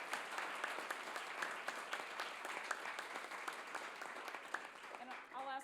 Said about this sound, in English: Join me in an applause for our great panelists